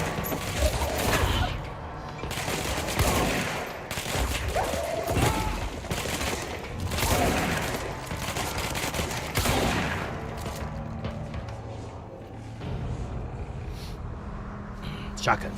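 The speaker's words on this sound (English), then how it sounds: "Yo, I'm loving this shotgun." Shotgun blasts ring out repeatedly during combat in the video game Control, loud bursts mixed with other gunfire, impacts and game effects, while someone talks over much of the action.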